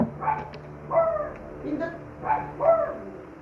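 A few dogs bark and yip in short bursts, four or so barks spaced out, moderately close, with voices faintly present in the background.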